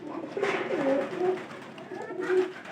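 Domestic pigeons coo up close in repeated low, rolling calls, several overlapping phrases across a few seconds, fairly loud and clear with no talking.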